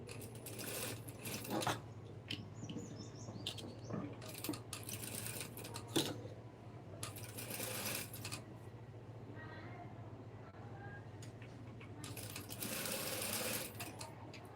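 A sewing machine stitches a blouse sleeve in close, loud bursts of rapid mechanical whirring, starting and stopping repeatedly between quieter pauses.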